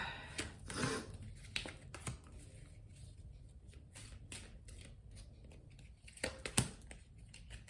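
A tarot card drawn from the deck and laid down, soft shuffling, sliding and tapping of cards, quiet and close, in irregular bursts.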